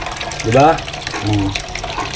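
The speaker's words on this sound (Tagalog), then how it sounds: "Ang hina ng tubig." Water runs weakly from a kitchen tap after dishwashing, a soft steady trickle heard close by under brief speech.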